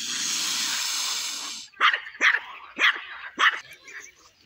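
A dog barks at swans feeding near a riverbank: four sharp, close barks in an uneven rhythm, preceded by a stretch of steady broadband rushing noise.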